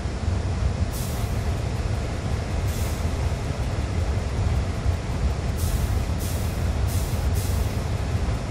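Diesel locomotive in Train Sim World 2 hauling a morning freight delivery: a steady, loud low rumble of engine and rolling wheels throughout, with several short bursts of hissing air brakes spaced through the clip.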